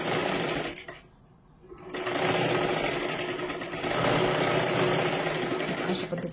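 Close, steady whirring of a sewing machine stitching a strip onto a blouse, briefly slowing to a quieter hum before speeding up again and running continuously.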